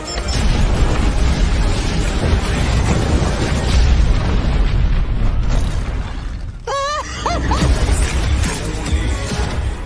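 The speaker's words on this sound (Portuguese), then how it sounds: "Lá vai bomba!" A bomb explodes with a loud, sustained roaring blast and crashing debris, followed by a brief dip and then continued rumbling noise, with no talk.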